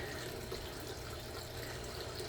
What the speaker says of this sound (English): I add a little water to it now and then. Just a trickle all around the edge.